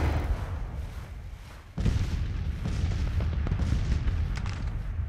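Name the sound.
artillery fire in video game Grand Tactician: The Civil War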